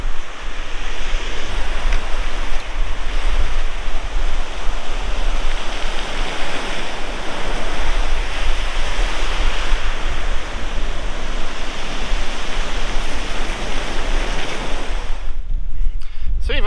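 Sea waves wash and splash steadily on a shoreline, a loud continuous broadband roar lasting throughout with wind noise mixed in, fading near the end.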